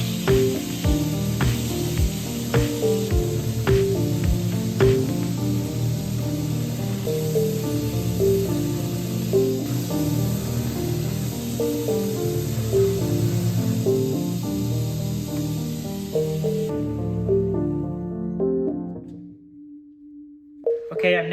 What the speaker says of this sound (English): we're gonna head to the belt sander and we're gonna surface grind the flats